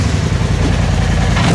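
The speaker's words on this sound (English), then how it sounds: "Yeah, just revving it up." A 2020 Polaris RZR Turbo with a newly fitted aftermarket blow-off valve idles and revs hard in a driveway, a loud, steady, close engine drone with no distinct pauses.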